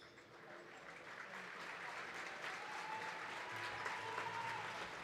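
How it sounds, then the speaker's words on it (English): Steady, sustained applause from a crowd at a futsal match, filling the arena evenly throughout as an injured player is helped off the court. "The crowd giving him a big round of applause as the medical team help him off the court"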